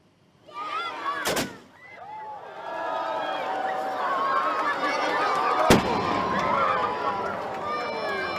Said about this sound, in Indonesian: Tembakan meriam, pelepasan ratusan balon, serta sorakan warga menandai waktu berbuka puasa hari pertama Ramadan